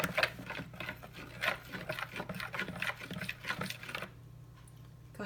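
A spoon stirs essential oil into a warm body butter mixture in a container, giving repeated close scraping and tapping strokes in an uneven rhythm that stop near the end.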